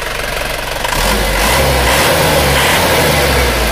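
An Isuzu Panther 2.5 diesel engine, just tuned up with its idle adjusted, revs steadily and loudly with a deep continuous drone that swells slightly after the first second, and no one speaks.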